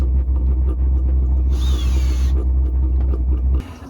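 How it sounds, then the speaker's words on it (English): A diesel heater fitted in a VW T4 Caravelle van runs with a steady, close low rumble. A thin whine rises over it midway, and the rumble cuts off abruptly near the end. No one speaks. "The diesel heat is working."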